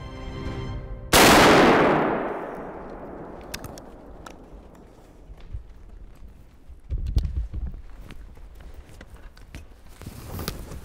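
A single loud shotgun slug blast, fired at a whitetail buck in Ohio snow, cracks sharply and then decays into a long fading echo, followed by quiet rustling and faint movement.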